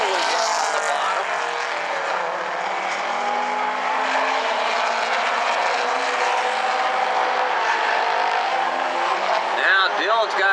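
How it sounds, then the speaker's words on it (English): Late Model race cars on the track at South Sound Speedway, engines roaring steadily and loudly as the pack races past, with an announcer calling the race over the noise. "the leaders have to get around Straker"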